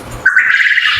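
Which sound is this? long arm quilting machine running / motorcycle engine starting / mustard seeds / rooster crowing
rooster crowing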